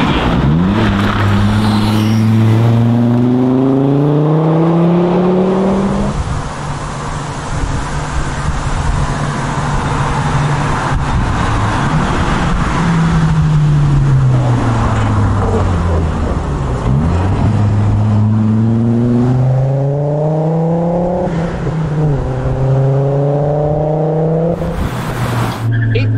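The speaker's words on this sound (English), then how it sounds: "Yeah, it's a Volvo wagon." A Volvo 850R wagon is driven hard at an autocross, its engine revving up and down through repeated gear changes, loud and close with tire noise and voices over it.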